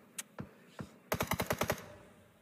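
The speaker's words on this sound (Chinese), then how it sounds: "对，毕竟那个方向开枪了。" Gunfire in a PUBG esports match: three separate sharp shots spaced apart, then a fast burst of about seven automatic rounds, loud and fairly close, with no talking over it.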